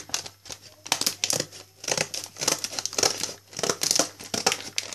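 Scissors cutting and crinkling the plastic wrapping of a chocolate basket, a close series of irregular snips and crackling rustles that come in bursts throughout.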